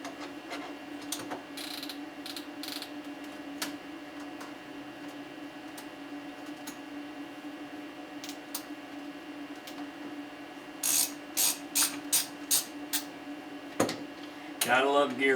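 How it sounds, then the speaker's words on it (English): Ratcheting gear wrenches clicking in a home workshop, bursts of quick rapid ratchet clicks near the end over a steady background hum. "Gotta love gear wrenches."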